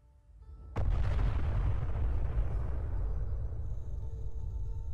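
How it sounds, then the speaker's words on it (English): A single sudden blast in a wartime audio drama erupts from near silence, then gives way to a long, dense rolling rumble that slowly fades. No voices are heard. "the explosions in the distance get louder"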